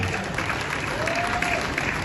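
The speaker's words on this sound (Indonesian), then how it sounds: "Tepuk tangan untuk Al-Ustaz Suswono" A crowd at a political campaign rally applauds Al-Ustaz Suswono, a dense, continuous wash of many hands clapping that holds steady and fairly loud for the whole stretch.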